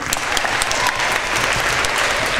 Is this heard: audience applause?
yes